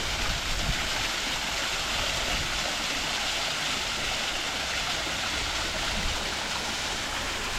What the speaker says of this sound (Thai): ด้านข้างก็จะมีน้ำตก